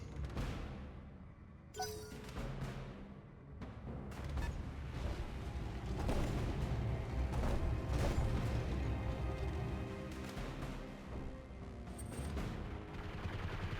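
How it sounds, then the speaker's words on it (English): A battle mech fires its machine guns in the video game Battletech, with dense rattling bursts and mechanical clanks over a low rumble, loud and continuous with no talk. "Just shooting his machine guns because he's so hot."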